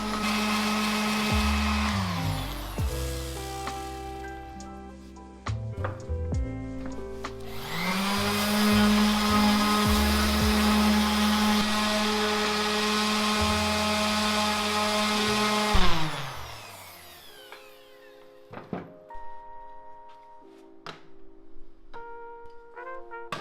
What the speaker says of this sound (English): Part of the woodworking process requires a lot of sanding in between.